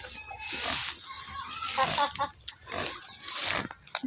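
Pigs grunt in a series of close, rough bursts, with a murmur of other noise underneath.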